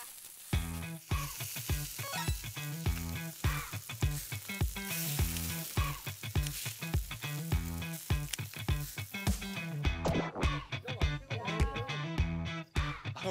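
Shrimp and scallops sizzle loudly on a hot grill plate at a Hanwoo beef party in the countryside, a dense crackling fry with rapid popping bursts that intensify toward the end.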